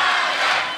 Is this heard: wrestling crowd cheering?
yes